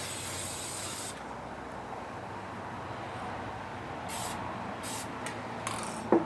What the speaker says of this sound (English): as we spray this, you should be able to see it go away